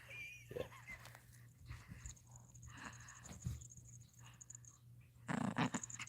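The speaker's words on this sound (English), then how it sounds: "He's growling." A chihuahua growls low and intermittently close by, soft rumbling bursts broken by pauses, ending in a louder rough snarl, with quiet room noise between.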